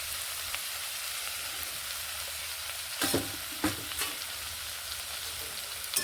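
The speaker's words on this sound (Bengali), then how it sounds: "মশলার সঙ্গে এইভাবে মিশিয়ে সবগুলোকে বেশ ভালোভাবে এইভাবে কষিয়ে নিচ্ছি" Fried potatoes and beans are sautéed with spices in a pan, a steady close sizzle with a few sharp scrapes and knocks of a spatula stirring through. No one speaks.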